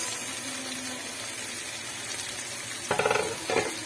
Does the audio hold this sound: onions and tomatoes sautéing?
yes